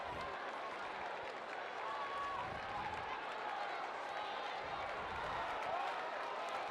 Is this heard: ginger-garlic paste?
no